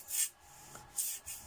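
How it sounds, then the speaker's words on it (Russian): Plastic bathroom window fittings between toilet and bathroom wiped with a cloth: two soft, close rubbing swipes separated by a quieter pause, no talking. "Так что сейчас все это хорошенько протираем."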